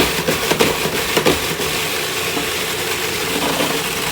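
A food processor grinds salmon with salt and parsley into a puree, a loud, dense mechanical whir with rattling chops at first that settles into a steady roar.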